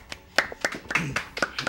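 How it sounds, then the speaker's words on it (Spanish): A few hands clapping for magician Bruno at a cultural event, sparse, uneven individual claps close by, with some voices mixed in. "Un aplauso,"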